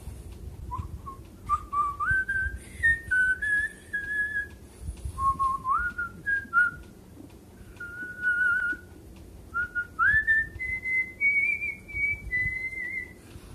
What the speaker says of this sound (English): but I do whistle it all the time.